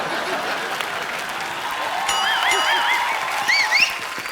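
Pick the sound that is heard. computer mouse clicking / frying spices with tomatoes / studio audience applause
studio audience applause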